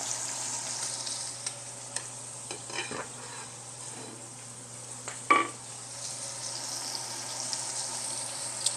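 Steak fries in a pan with a soft, steady sizzle, broken by scraping and a sharp clatter of a utensil against metal.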